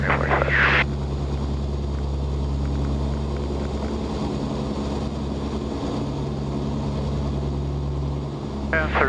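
Steady heavy drone of the Martin Mars flying boat's big radial propeller engines fills the cockpit, constant and loud for the whole stretch, with brief crew radio chatter at the start and end.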